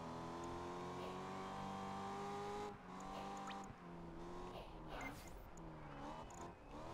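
A race car driven in Project Gotham Racing 4, engine droning steadily at high revs with gear shifts and pitch changes around the second lap, a voice talking over the game sound.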